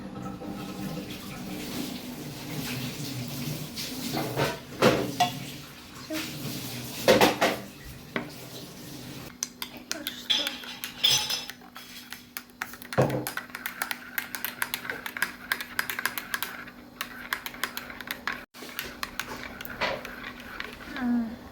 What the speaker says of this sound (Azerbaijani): Şimdi buna suyu əlavə edəcəm, qarışdıracağım.